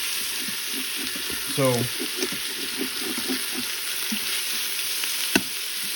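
Pork carnitas pieces fry in an Instant Pot with a steady, close sizzle and crackle, broken by scraping and stirring clatter and one sharp clink near the end; someone speaks a single brief word over it.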